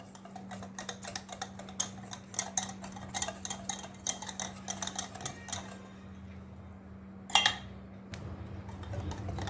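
Dhokla batter is whisked briskly in a bowl, a rapid run of close ticking and clinking strokes against the sides, then a pause and a short louder burst of whisking, over a low steady hum.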